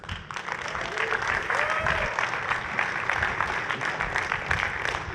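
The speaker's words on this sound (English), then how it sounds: "Give the LWC team a bigger round of applause." Audience applause at the Dreamforce technology conference, a dense, rising burst of clapping from a large crowd in a hall, steady and loud for several seconds with faint voices beneath.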